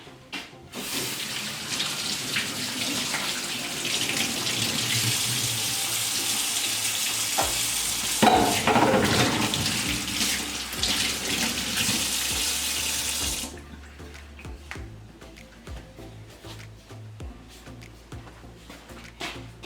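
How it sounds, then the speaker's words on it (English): Tap water runs into a sink while hands are washed, a loud, steady rush that lasts about thirteen seconds and then cuts off, leaving faint drips and small clatters. "for now I'm just gonna wash my hands first so that I make sure that they are clean"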